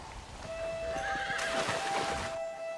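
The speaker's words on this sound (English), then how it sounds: "These horses look fresher and healthy" A horse whinnies loudly in Red Dead Redemption amid clip-clopping hooves and a steady rain-like background, the neigh rising and trailing off over a couple of seconds.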